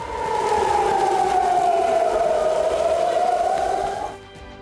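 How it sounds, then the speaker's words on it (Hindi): An air raid siren wails across Hadera, Israel, a loud, steady rising-and-falling tone that holds for about four seconds before cutting off abruptly. "हदेरा शहर आया है, जहां सायरन बजने के बाद लोग छिपते नजर आए"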